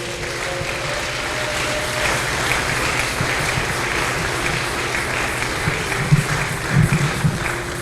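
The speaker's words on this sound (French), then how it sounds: "Acclamons la parole du Seigneur Jésus-Christ." A congregation applauds at a Sunday church service, producing a sustained, dense wash of clapping across the hall, steady throughout with a few sharper, closer bursts toward the end and a faint tone beneath.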